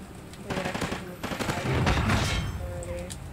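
Gunfire in the video game Call of Duty: Ghosts, team deathmatch on the Overlord map, with bursts of rapid shots and fusillade-like volleys in a busy mix, under occasional speech.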